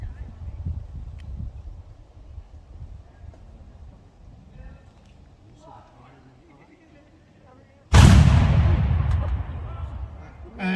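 A re-enactment cannon fires grape shot at the 2025 Battle of Camden in South Carolina. After a stretch of quiet outdoor wind and murmur, a single loud, close boom erupts and rolls away in a long, fading rumble.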